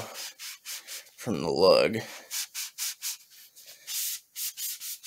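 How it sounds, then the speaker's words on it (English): An oiled rag rubs briskly over the threads of a Hawk Model 982 pump-action shotgun, one sustained scrubbing burst, close and fairly loud, with someone talking before and after. "spray a little bit of oil here on my rag, and we'll just get this really quick, and I'll kind of clean those threads out too"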